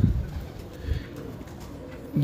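Champion flying pigeons coo in low, soft bursts at the start, near the one-second mark and again at the end, with a steady murmur of background noise between calls.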